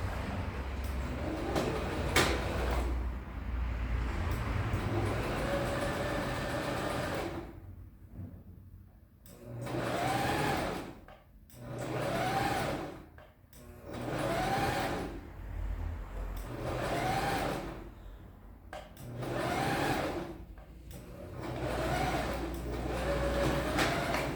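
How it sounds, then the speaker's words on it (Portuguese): A sewing machine stitches along the fold of bias binding on the wrong side of the fabric. Close, steady whirring comes in repeated bursts separated by short pauses. "eu vou passar a minha costura em cima dessa dobrinha mesmo que tem no viés, do lado avesso"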